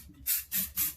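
Spray paint can hissing onto a vase base, three short loud bursts in quick succession, each about a fifth of a second, close up with no talking.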